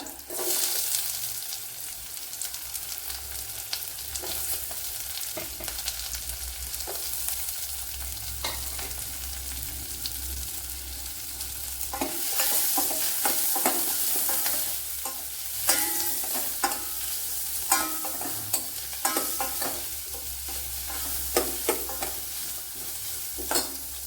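A medium-sized chopped onion fries in a pan with a dense, crackling sizzle throughout, a low hum underneath and frequent stirring scrapes, some louder bursts toward the end. No voices are heard.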